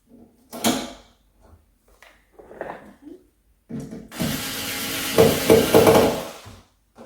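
A slightly larger screw is driven into a vintage furniture fitting during refinishing: scattered knocks and taps of metal and wood, then a longer rasping, grinding stretch as the screw bites and turns, close up with no talk.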